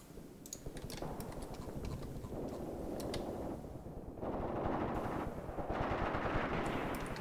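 Machine guns rattle steadily in the war strategy game Graviteam Tactics, a dense, continuous crackle of rapid shots at moderate distance, with sharper bursts on top.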